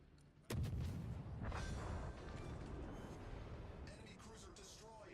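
Naval guns fire in World of Warships as shells score citadel hits on an enemy cruiser, a sudden heavy boom followed by rumbling blasts and crackling impacts, loud and dense.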